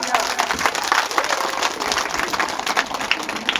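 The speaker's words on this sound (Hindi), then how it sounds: "जोरदार तालियां" People at a Hindu religious gathering clap in uneven, lively applause, with some separate claps standing out and voices mixed in beneath.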